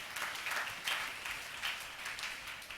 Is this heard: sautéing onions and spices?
no